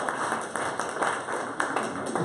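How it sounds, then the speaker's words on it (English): A small group at an office meeting gives a short burst of applause, a quick cluster of close, crisp claps lasting a couple of seconds. "A solid round of applause there."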